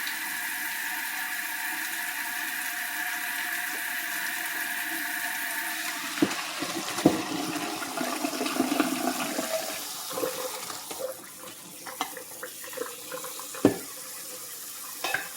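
Steady rush of cold tap water pouring into a kitchen sink over savoy cabbage for several seconds, then breaking into splashes and clatter as the flow is disturbed.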